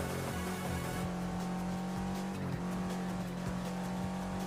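An all-wheel-drive race car in a racing video game launches and runs through a qualifier session, its engine droning steadily at high revs with occasional tire squeal, loud and continuous throughout.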